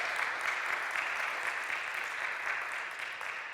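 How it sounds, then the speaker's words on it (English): Conference audience at a Wasm I/O 2025 tech talk applauding after a live computer vision demo; steady, dense clapping from a crowd that holds evenly throughout without fading. "Gratuitous applause."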